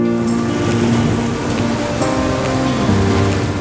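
Rain pours steadily in an animated short film, a dense, even patter on surfaces with soft music tones layered underneath.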